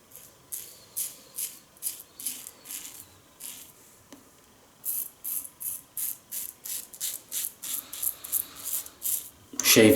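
Shaving with a Lord L6 double-edge safety razor and Palmolive shaving soap, short rhythmic scraping strokes close to the face, repeating in quick series with a brief pause midway, then a louder rustle at the end.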